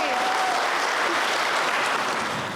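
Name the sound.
wedding guests applauding the bride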